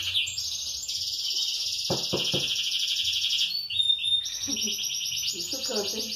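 A canary sings a loud, sustained, rapid trilling song close by, with brief pauses and shifts in pitch, over a faint background murmur.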